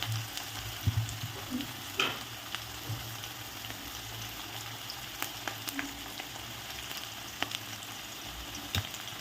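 Okra curry with cumin, mustard seeds, onion and green chili sizzles steadily in a pan, with occasional spoon scrapes and small pops rising over a low, constant frying hiss.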